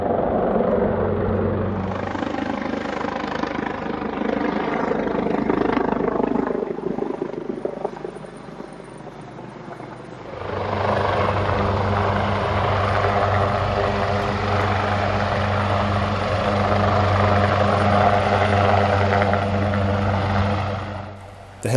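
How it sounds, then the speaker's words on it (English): A helicopter's rotor and engine drone steadily for a long stretch, fairly close and loud, dipping briefly before swelling again. "there was a bit of drama the following day when a rescue helicopter came to the island."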